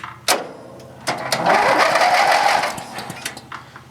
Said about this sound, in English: We're just going to crank it just for a couple seconds just to make sure the starter and everything still works.